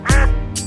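A mother duck quacks in a Hindi children's song about five little ducks, one loud, close nasal quack followed by a brief fainter tail, with no voices.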